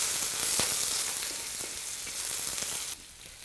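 Ginger, garlic and pork belly sizzling in a hot wok, a dense bright frying hiss with a few stirring scrapes, dropping quieter near the end.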